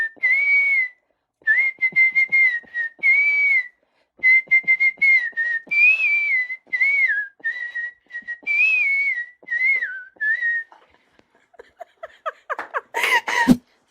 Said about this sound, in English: What is your favorite song to whistle, and can we hear it?